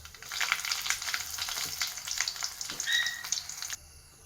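Mustard seeds and dried red chillies sizzle and crackle in hot coconut oil in a pan, a dense close frying hiss with small pops that drops away abruptly near the end.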